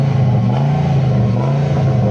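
A Ram 1500 Lone Star Edition pickup with a performance exhaust idles and revs, giving a loud, deep, continuous engine rumble with a slight rise and fall in pitch.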